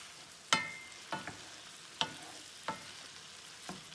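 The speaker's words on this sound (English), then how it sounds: "I'm just gonna mix that in with a wooden spoon now" A wooden spoon knocks and scrapes through chicken and spices in a pan, several sharp taps spaced about a second apart over a faint background.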